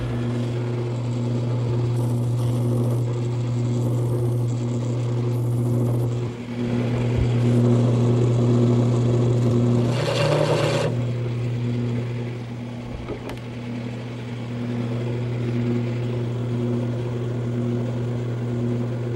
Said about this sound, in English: use a parting tool to bring them down to the diameter that I want